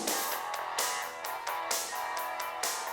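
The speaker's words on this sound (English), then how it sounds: "That could be a really small radio." Song played back thin and boxy as though through a really small radio, with steady music and rhythmic beats throughout at moderate level.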